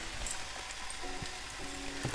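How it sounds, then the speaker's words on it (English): Fresh porcini mushrooms fry with salt in a pan, a faint, even sizzle with small crackles and soft pops, heard close and alone. "when it comes to porcini, you need to cook them for about 10 minutes"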